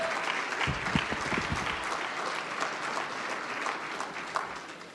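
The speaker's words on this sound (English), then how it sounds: "Give yourselves a round of applause" Crowd applause at an awards evening, a dense steady clapping that starts strong and slowly tapers over several seconds.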